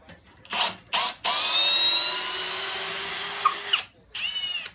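A Milwaukee 2704 cordless drill in drill mode drives lag screws into wood, giving short bursts and then a long, straining whir that slows under load. The motor whines loudly up close, stops, and restarts briefly.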